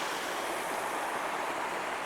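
Loud, steady roar of rushing waterfalls on a desert hike in Redington Pass, a dense broadband wash of water filling the whole moment without a break, close and continuous with no voices.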